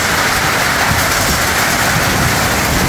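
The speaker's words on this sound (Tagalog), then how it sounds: "Tapos may dalang ulan din guys." Steady rain pours in a cold, foggy outdoor setting, a dense, continuous hiss close by with no break across the short stretch.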